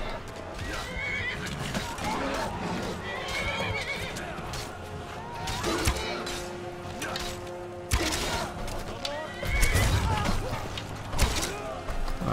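A horse whinnies and neighs in the fantasy video game Skyrim during a fort battle, its calls repeating over a busy mix of combat noise and clattering hooves.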